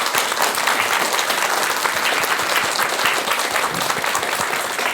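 Audience applause after a Buddhist monk's talk on counseling fills the hall, a steady, dense wash of many hands clapping at an even, loud level throughout, with no voices standing out.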